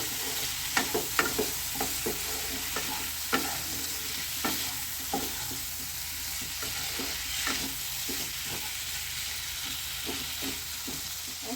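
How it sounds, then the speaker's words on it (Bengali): Steady sizzling of small tengra fish frying in hot spiced oil, with repeated sharp scraping clicks of a spatula stirring the pan, close by and no talking. "মাছটাও ভাজা হয়ে যাবে আবার মানে মশলাটাও ঠিক মতো ভালো কষানো হয়ে যাবে"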